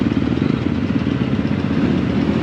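A Suzuki RMZ off-road dirt bike on an enduro ride in Nepal runs close and loud, a dense, unbroken engine roar with a rough, clattering texture that holds steady throughout.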